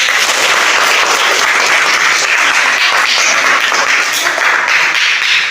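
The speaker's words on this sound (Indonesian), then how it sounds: "kasih tepuk tangan ke kelompok 1" A classroom of students claps for a presenting group, a loud, continuous wash of close applause throughout.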